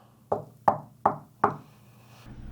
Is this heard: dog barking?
no